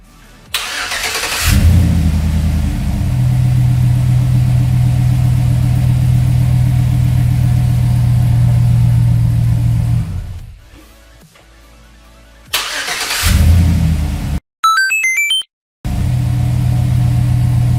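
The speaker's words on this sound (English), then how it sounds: "That thing turns my truck over faster than the actual battery" A truck engine cranks briefly and fires up off a 20000 mAh Audew jumper pack, then idles loudly and steadily up close, cuts off, and is restarted with another quick crank; short electronic beeps come from the pack in between.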